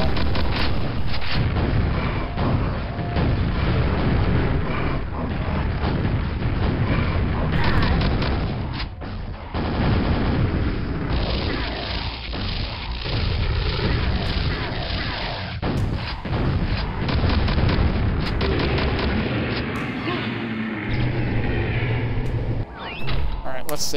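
Rocket launcher blasts and booming explosions from the Quake mod Dwell running in vkQuake, a dense, continuous barrage of loud thuds and bursts with a voice talking over much of it.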